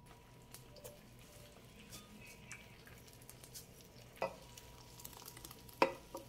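Nopal and meat patties fry quietly in a pan, a soft steady sizzle with occasional scraping clicks as they are stirred and turned.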